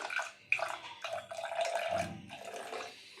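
Rose milk is poured into a glass, a short close liquid trickle and splash in a few uneven bursts with a small clink near the start.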